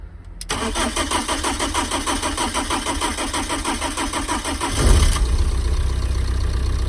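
A BMW M47 diesel engine fitted in a Ford Transit van cranks with a rhythmic starter chatter for several seconds, then catches and settles into a steady, loud idle.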